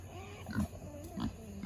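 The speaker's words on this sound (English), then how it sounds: "Pig Trudy has come up to say hi to me." A pig grunts at close range on a farm at night, two short low grunts about half a second apart over a quiet ambient background.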